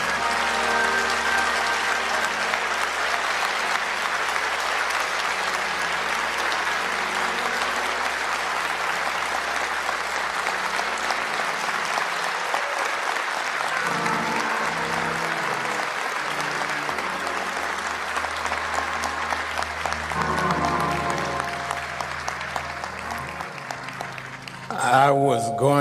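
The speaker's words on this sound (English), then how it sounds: "since y'all stood up and clapped so long" A long, sustained ovation for Vice President Kamala Harris, the audience on its feet clapping steadily and loudly for over twenty seconds, with crowd murmur and cheers mixed in before it tapers near the end.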